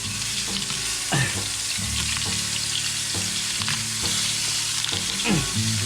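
Garlic sautés in a pan for a Filipino pinakbet, with a loud, continuous frying sizzle up close and occasional scrapes of a spatula across the pan, and no talking.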